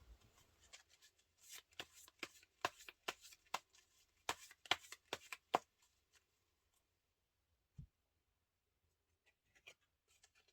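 Tarot cards riffle and shuffle in a rapid burst of crisp papery snaps, close and fairly quiet, then stop; a single soft tap and a few faint rustles follow in near silence.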